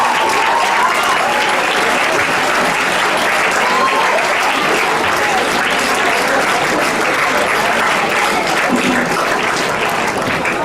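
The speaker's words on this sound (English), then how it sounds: "I think all these schools deserve a huge round of applause." Loud, sustained applause from a large audience at a conference closing ceremony, dense and continuous for the full stretch.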